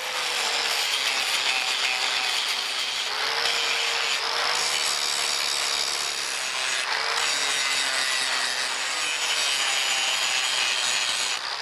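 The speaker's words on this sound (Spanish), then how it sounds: "Pasamos la radial para quitarle," An angle grinder smoothing a hand-forged steel key in a traditional blacksmith's forge, a loud continuous abrasive grind with slight pitch shifts as pressure changes.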